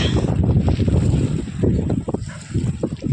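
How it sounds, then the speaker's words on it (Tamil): Strong wind at KRP Dam in Krishnagiri buffets the microphone with a loud, constant low rumble. The gusting rises and falls throughout. "காற்று ரொம்ப நல்லா வருது"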